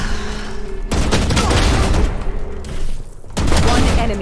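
Rapid bursts of gunfire in the video game Valorant fill most of the stretch, loud and dense. A short lull comes before a final volley, and a voice may speak faintly underneath.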